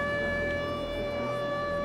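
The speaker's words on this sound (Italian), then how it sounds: "Il suono delle sirene delle bombe" Air raid bomb siren wailing in the war game Torn Away, a steady sustained tone with layered harmonics, loud and continuous over a low rumble throughout the short stretch.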